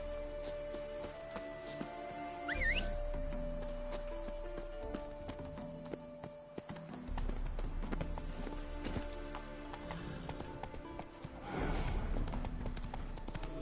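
Horse hooves clip-clopping steadily at a walk in The Witcher 3, over a busy game soundscape with music and ambient noise, fairly faint in the mix.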